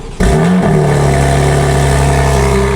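A BMW G80 M3 with a Valvetronic midpipe exhaust, valves closed, cranks and fires up with a sharp rev flare, then settles into a deep, steady, loud idle rumble close to the microphone.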